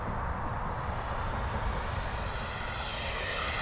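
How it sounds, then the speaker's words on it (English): An FMS F-86 Sabre 80mm EDF radio-control jet makes a full-throttle flyby, its ducted-fan roar loud and steady throughout, with a high whine rising slightly as it passes close by. "it does make a really great sound when it goes in a full throttle flyby"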